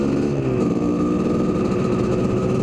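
A Kawasaki KDX250 dirt bike engine runs steadily at idle with the choke just turned off, a continuous close buzzing drone with a fast pulsing rhythm and no talk throughout.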